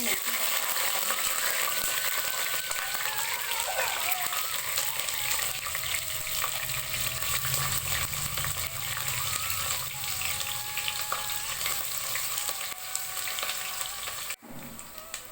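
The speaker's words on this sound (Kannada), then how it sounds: "ಸೊ ಈಗ ಎಲ್ಲ ಚಕ್ಕೆ ಲವಂಗ ಎಲ್ಲ ಮಿಕ್ಸ್ ಮಾಡೋಣ" Cinnamon and cloves fry in hot oil in a pan for chicken biryani, giving a loud, dense, sustained sizzle with faint utensil scrapes throughout, cut off abruptly near the end.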